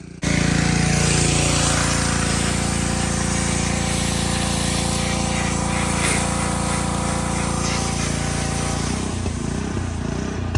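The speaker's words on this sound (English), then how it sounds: "we're gonna pressure wash the truck now, right here" Gas pressure washer running loud and steady while spraying down a truck to strip off bed liner outdoors at dusk, a continuous engine drone with hissing spray for about nine seconds before the tone shifts near the end.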